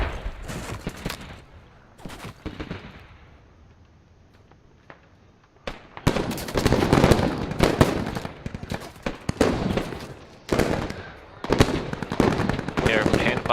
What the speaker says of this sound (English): Other T-72's firing from a distance.